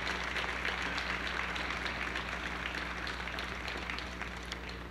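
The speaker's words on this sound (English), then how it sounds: "That deserves applause as well." Applause from an audience at an outdoor street renaming ceremony honoring NASA's hidden figures, a steady wash of clapping held at an even level throughout, fairly distant, with a low hum underneath.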